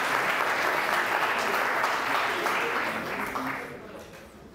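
A hall audience at the final of a 2023 eloquence contest applauds a speaker, a thick, sustained wash of clapping that stays strong, then thins and fades toward the end.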